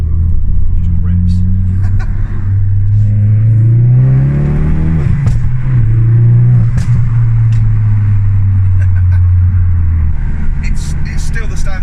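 A tuned 450 bhp Ford Focus RS MK3 with a standard turbo accelerates around a roundabout, its engine drone rising and falling as it revs through gears, loud and close from inside the car, with someone talking over it.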